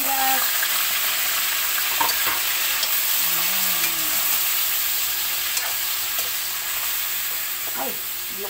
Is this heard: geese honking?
no